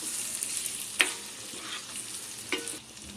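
Marinated chicken liver frying in a pan over a medium flame, with a constant soft sizzle broken by two or three clear clinks and scrapes of a stirring utensil, close by, no talking.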